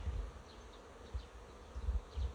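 Bees buzz faintly on a hot, slightly windy June day at about 28 degrees, a low drone broken by soft gusts of wind rumbling close by.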